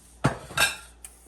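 A spoon stirs a seafood gumbo roux in a pot, giving two quick metallic scrapes and a faint final clink, close and brief.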